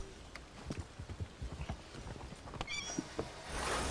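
A horse in the video game Red Dead Redemption II clip-clops at a steady walking rhythm, the hoofbeats close and distinct over a low rumbling background.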